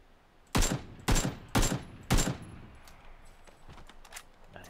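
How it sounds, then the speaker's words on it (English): Four sharp, loud bursts of gunfire in a battle royale video game, evenly spaced about half a second apart, followed by fainter distant shots and clicks. "They're taking shots at me"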